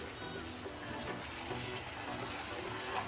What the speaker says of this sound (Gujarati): હવે આપણે એની અંદર પાણી એડ કરી દઈશું